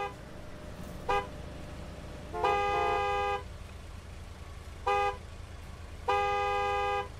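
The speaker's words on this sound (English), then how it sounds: "I don't like being in traffic." Backed-up traffic in Gas Station Simulator, with car horns honking over a low road rumble: a short toot, a long blast, another short toot, then a second long blast, fairly loud and alternating.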